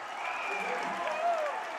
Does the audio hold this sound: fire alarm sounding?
no